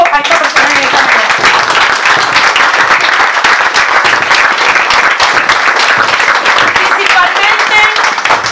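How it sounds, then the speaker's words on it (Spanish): A care-home audience claps loudly and continuously, hands near and dense, with voices and cheering mixed into the applause throughout. "Vamos a darle un aplauso a esta persona en esta casa."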